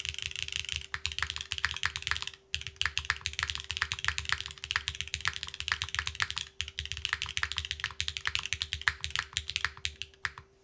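Rapid, steady typing on a Neo65cu mechanical keyboard, close and crisp keystrokes in a dense run with a couple of brief pauses, no talk.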